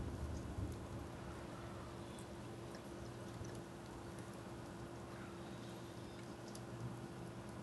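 Thunder rumbles low and steady beneath heavy rain through a thunderstorm, a continuous dense roar of rainfall with the deep rumble sustained throughout.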